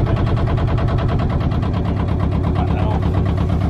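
A narrowboat's diesel engine runs steadily after starting, a loud, continuous low rhythmic chugging that holds close and even throughout.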